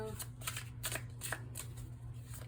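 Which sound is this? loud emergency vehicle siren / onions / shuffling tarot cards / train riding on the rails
shuffling tarot cards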